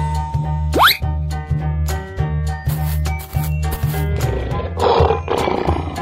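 A cartoon lion roars in a children's animal scene, a rough burst that swells late in the clip over steady, bouncy background music and plopping effects.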